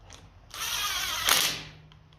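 A power tool whirs for about a second while spinning down cylinder head bolts on a 1957 Ferguson 35 TVO tractor, a close high buzzing burst with a brief ratcheting surge near the end before it stops.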